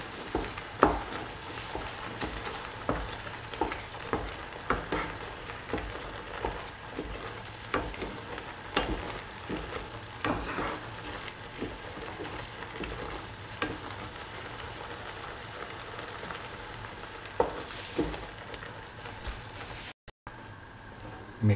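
A banana and yogurt curd mixture is stirred in a pan over the flame. Regular scraping and tapping strokes of a spoon repeat every second or so over a low, constant sizzle, close and fairly quiet.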